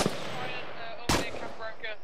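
Gunfire in the military shooter game ARMA III, two sharp shot bursts a second apart, each trailing into a rolling echo, with radio-style voices talking under them.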